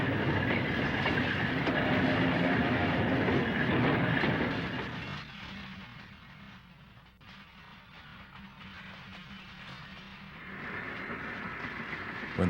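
A westbound freight train on the Sacramento Northern line slows past Walnut Creek station, its loud, steady rumble and wheel clatter filling the first seconds, then easing to a quieter rolling hum before swelling again near the end.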